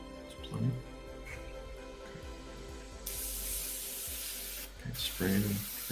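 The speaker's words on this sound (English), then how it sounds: "Spraying very nicely right away." An airbrush sprays thinned Mission Model paint onto scale model aircraft. A faint hiss at first turns into a loud, steady airy spray halfway through, with brief clatters and handling noises.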